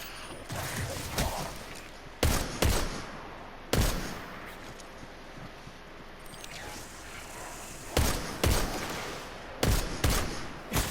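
Weapon fire in the Destiny 2 video game, used like a sniper rifle: single sharp shots spaced irregularly, some in quick pairs, punching over a steady ambient game background.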